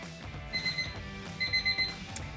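A workout timer alarm at the end of a lower-body climbing session beeps in quick bright bursts, two clusters of rapid electronic tones over faint background music.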